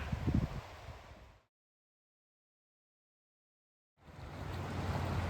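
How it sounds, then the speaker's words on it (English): Broad rushing noise of a fast-flowing river, dense and steady, cuts out into silence for a few seconds, then resumes at a similar level. "River's moving at a pretty good clip today."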